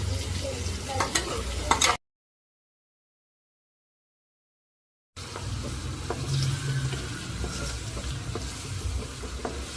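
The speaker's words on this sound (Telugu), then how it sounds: "బాగా పచ్చివాసన పోయిన వరకు ఫ్రై చేయాలి." Spice paste for palak ullikaram sizzling and frying in a pan while being stirred, a close crackling hiss that cuts out completely for about three seconds before resuming.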